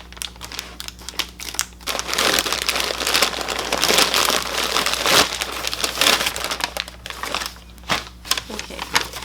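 Big sheets of packing paper crinkle and rustle steadily while a large box from a Lilly Pulitzer order is unboxed, close and fairly loud, with brief bursts of heavier crumpling.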